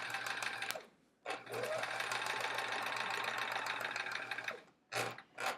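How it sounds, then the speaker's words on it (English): A sewing machine stitches a quilt block with a steady whirring hum, running in two long bursts broken by short pauses, then a few brief stitches at the end, close and alone. "I'm going to sew to that nested part."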